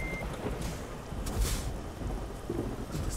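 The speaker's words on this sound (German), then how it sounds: "Das donnert auch noch dazu." Thunder and steady rain in Euro Truck Simulator 2, a dense hiss of downpour with low rumbles swelling midway, heard from inside the truck without speech.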